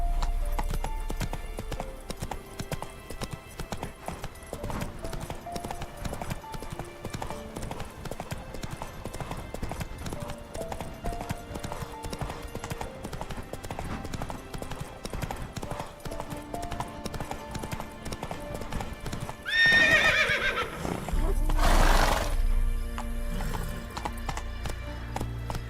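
Roach, the horse in The Witcher 3, gallops with a steady, driving clip-clop of hooves throughout, then gives a louder whinny near the end against a continuous game backdrop.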